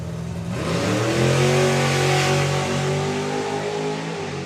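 A drag racing car at a drag strip accelerates hard, its loud engine note climbing steadily in pitch through the gears over a few seconds, close and dominant with no voices.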